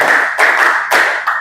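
Group of people clapping hands in a quick counted pattern during a classroom clapping game, several sharp bursts of claps close together, loud and near with no talk.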